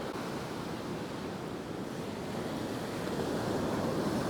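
Ocean surf at South Beach, Marco Island during Hurricane Idalia, with waves around five feet: a steady broadband wash of breaking waves and wind rushing, constant and enveloping, slightly building toward the end, with no voices.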